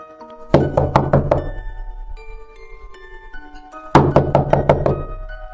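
Knocking on a house door as a narration sound effect: two loud, close bursts of about five quick knocks each, separated by a pause with faint background tones.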